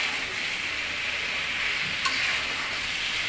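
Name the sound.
chicken roast being stir-fried with spices in a pan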